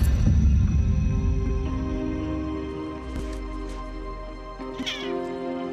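A cat meows loudly and close, a long drawn-out caterwauling cry followed by a couple of shorter meows, alone with no talk.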